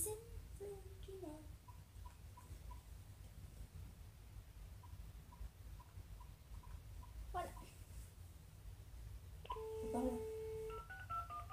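A telephone number is dialed during a prank call, with a quick series of short beeping key tones, a later burst of tones, and children talking and murmuring quietly around them.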